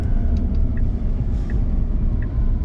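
A Tesla Cybertruck Founders Edition heard from inside while driving, with a steady low road rumble and smooth, quiet cabin noise throughout, plus a few faint soft tones and no talking.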